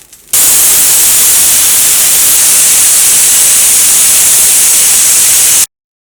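A loud, steady frying hiss of grated coconut sizzling in a pan, continuous for several seconds before cutting off abruptly.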